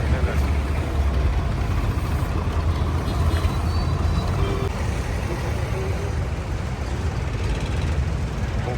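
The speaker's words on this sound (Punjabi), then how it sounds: "ਔਰ ਟਰੈਕਟਰ ਆਉਣ ਵੀ ਹੋਣੇ ਲੱਗਿਆ ਉਹ ਪਰਾਂ ਦੇ ਵੀ ਨਿਕਲੇ ਬਹੁਤ ਸਾਰੇ" Farm tractors gathering for a road march, their diesel engines idling and rumbling in a broad, busy outdoor drone with occasional hiss, sustained throughout at moderate distance.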